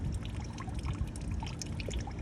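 Water pours and gurgles steadily into the coolant system of a 1999 Honda CR-V during a flush, a close, continuous splashing trickle without talk.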